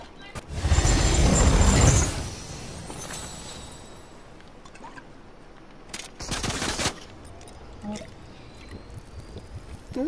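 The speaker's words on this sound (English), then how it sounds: "This little man trying to shoot at me." Rapid automatic gunfire rattles in Fortnite, a loud sustained burst followed by quieter sporadic shots and a second shorter volley.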